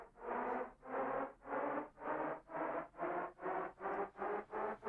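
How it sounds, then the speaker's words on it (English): A washy, reverb-drenched synthetic Shepard tone swells and fades in about ten even pulses, giving the illusion of a pitch that keeps climbing without end. "this is an infinite rising sound. This is based on the shepherd tone."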